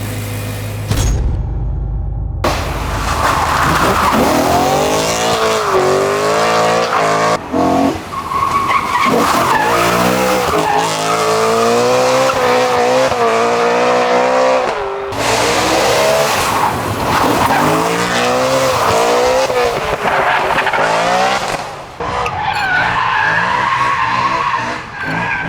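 A BMW E92 M3 driven hard squeals and skids its tires through repeated slides, engine revving and rising in pitch in long loud sweeps, close and continuous with short breaks.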